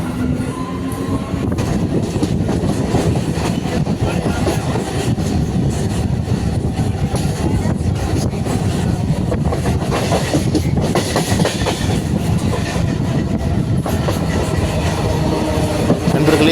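A local electric EMU train running between Sullurpeta and Chennai Central rumbles steadily along the tracks with rhythmic clatter and a continuous low roar, loud and close, no voices.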